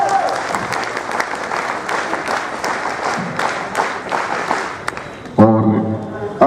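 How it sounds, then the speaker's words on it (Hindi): Steady audience applause at a National Voters Day ceremony fills the hall for about five seconds, dense and even, then breaks off as a voice takes over on a microphone. "आप लोग तालियां बजा दीजिए"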